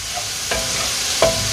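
Onions and a bay leaf cooking in a pot for a traditional Southern greens, peas and pork dish: a steady soft sizzle, with two brief scraping stirs of the pot partway through and near the end. No talking.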